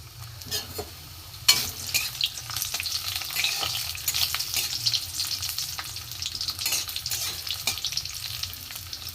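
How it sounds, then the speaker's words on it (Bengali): Papad pieces fry in hot oil, a loud continuous crackling sizzle that jumps up sharply as they drop in and keeps bubbling close and busy throughout. "এখানে দেখুন তেলও গরম হয়ে গেছে। আমি অল্প অল্প করে পাঁপড় দিয়ে দেবো।"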